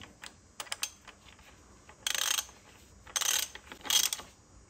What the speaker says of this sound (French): je vais visser ça comme j'ai dit